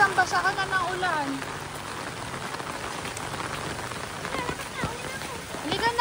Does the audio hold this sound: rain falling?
yes